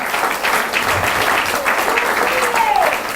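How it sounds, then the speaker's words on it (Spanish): A crowd claps steadily and loudly throughout, a dense wash of applause with a voice faintly audible beneath it. "si le vas a dar un aplauso al Rey, dáselo fuerte"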